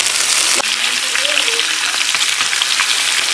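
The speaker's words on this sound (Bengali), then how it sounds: "মা সরে যাও, তেল ছিটাচ্ছে, সরে যাও।" Beetroot frying in hot oil gives a very loud, close, hissing sizzle with frequent spattering pops. A faint rising whistle-like tone briefly sits under it near the start.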